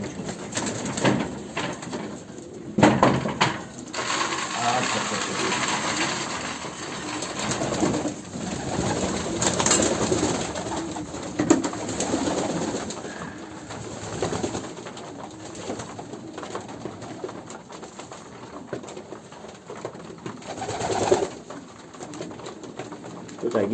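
Pigeons in a breeding loft housing Fabry, Ardennes and Janssen pairs, cooing in a steady dense murmur throughout, close and fairly loud, with someone talking over them at times.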